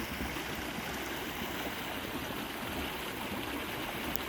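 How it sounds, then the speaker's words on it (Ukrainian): Continuous rushing of flowing water, steady and moderately loud, with no voices, at Skhidnytsia in Lviv region in autumn. "Вода тече."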